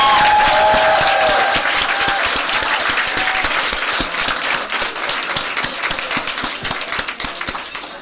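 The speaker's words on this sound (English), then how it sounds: "We can do one nice big round of applause for all our 25," A round of applause from the audience at a school board meeting, many hands clapping loudly at once, then slowly thinning and fading toward the end.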